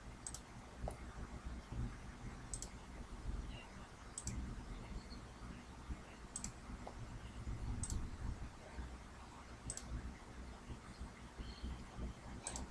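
Faint, evenly spaced clicks of a mouse button, about one every two seconds, sit over a low rumble of room noise.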